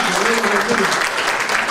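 Church congregation clapping together during a Spanish-language Nazarene service, a dense steady wash of applause lasting throughout, with a voice briefly audible underneath.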